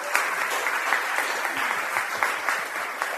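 An audience at a literary reading event in a Baptist church claps for the readers, a fairly small crowd giving steady, moderately loud applause with individual claps distinguishable.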